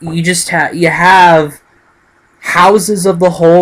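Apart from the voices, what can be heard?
None of the usual background noises is heard.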